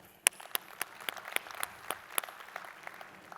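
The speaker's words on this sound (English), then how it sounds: "A round of applause for the team" Scattered applause from a small conference audience at a forum, sparse individual claps ringing out at an uneven rhythm, fairly faint and thinning over a few seconds.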